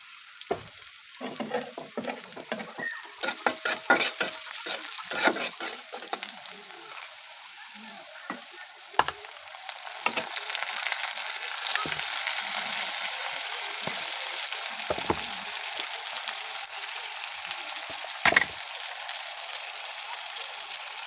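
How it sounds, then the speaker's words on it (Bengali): Onions and oil sizzling in a wok while fish is being cooked, a steady frying hiss with bursts of stirring and scraping clatter near the start and a few sharp knocks later on. "কড়াই বসালাম তার মধ্যে দিয়ে দিয়েছি তেল এখন দিয়ে দেবো পেঁয়াজ"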